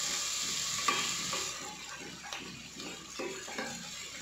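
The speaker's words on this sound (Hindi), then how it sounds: "अब हम इसमें लहसुन डाल लेते हैं और साथ ही हम इसमें अदरक जो हमने ग्रेट करके रखा है वो डाल देंगे और इसको हम 2 मिनट तक भूनेंगे" Garlic and grated ginger sauté in a pan, giving a steady soft sizzle with occasional stirring scrapes and small taps, fairly quiet and without speech.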